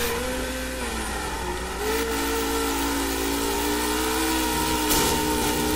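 Race car engine in the Project Cars video game: a loud, steady, high-revving whine that holds with slight pitch shifts throughout, alone with no talk.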